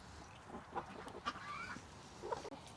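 Chickens clucking on a homestead near a coop and run, a few soft, scattered clucks and short calls, faint and somewhat distant, over quiet outdoor background.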